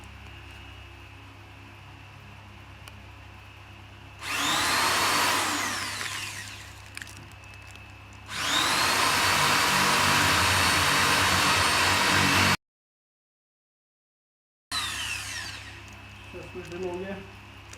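An Olympia OLY-401 400W 10mm electric drill whirs loudly in two long bursts of several seconds each, then a brief gap and a quieter third run, with a faint hum between them.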